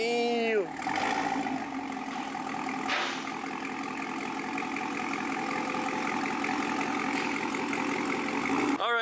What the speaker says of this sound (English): there is the new exhaust installed, Corsa Xtreme Plus Catback